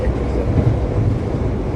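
Steady rumble of the Parahyangan passenger train running on its rails, heard from inside a carriage as a continuous, fairly loud low roar with faint rattling and no voices.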